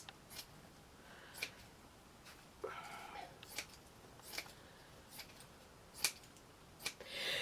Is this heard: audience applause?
no